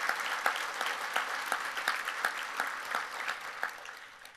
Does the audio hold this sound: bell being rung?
no